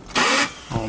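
A Nissan 300ZX engine fires up after a battery reset, cranking briefly and then catching with a loud burst that settles into a rough, bogging idle, close by in a garage.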